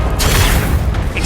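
A Confringo blasting spell goes off in Hogwarts Legacy as one loud, close, booming burst of noise that fills the whole moment.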